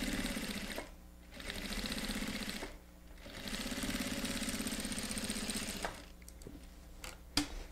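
A sewing machine topstitching a seam on a plastic organizer runs in two long, steady buzzing stretches with short pauses between them, then a few brief starts and clicks near the end.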